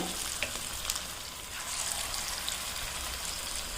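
Jackfruit seed vadas dropped into hot oil set off a steady, close sizzle with fine crackling pops, with no voices.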